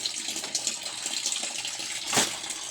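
Water running from a household faucet during hand laundry, a continuous bright splashing stream with a brief louder gush near the end, no speech.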